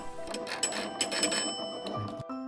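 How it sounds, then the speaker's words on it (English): A hand-cranked magneto bell on an old Kellogg telephone rings in rapid, rattling bursts, loud and close, then stops abruptly near the end with a brief tonal hum. "the crank would turn this magneto and generate enough electricity to ring the phone bell"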